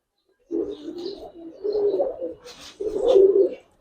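Giribaz pigeons at a pigeon farm coo close by in three throaty, rolling bursts, each swelling and fading within a few seconds.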